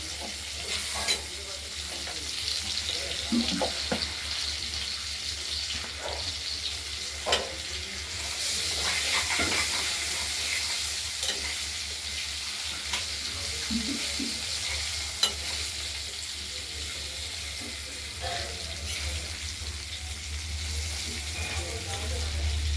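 Potatoes with turmeric fry in a pan for a katla fish curry, a continuous close sizzle with scattered stirring scrapes and clicks, and a voice speaking at times over it.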